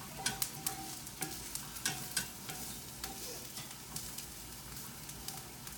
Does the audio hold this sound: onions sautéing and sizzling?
yes